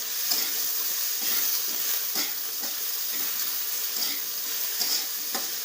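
Tomatoes fry in a pan with oil for a soybean vegetable dish, giving off a steady, close hiss and sizzle. Faint stirring scrapes come through without any talk.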